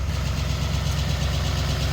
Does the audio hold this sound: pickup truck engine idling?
yes